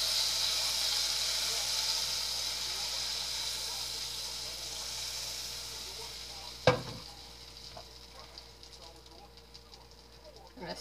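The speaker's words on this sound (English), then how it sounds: "Listen to that sizzle." Butter sizzling in a hot pan before crappie fillets go in, a steady close hiss that slowly fades, broken by one sharp clatter near the end.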